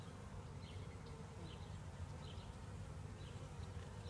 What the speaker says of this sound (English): There's quite a few bees. There's bees on the sides.